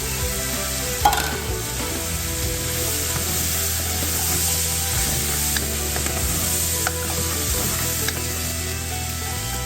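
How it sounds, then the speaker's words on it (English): Carrots and parsnips go into a hot pot for lamb Guinness stew, setting off a steady, loud sizzle with stirring scrapes throughout and no talking. "Carrots and parsnips in."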